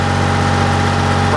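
A diesel engine runs at maximum RPM with a loud, steady, dense mechanical roar and an even high-revving drone, close by and unbroken.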